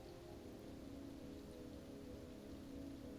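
Steady rain falls in a continuous, even hiss, moderately quiet and without breaks or voices.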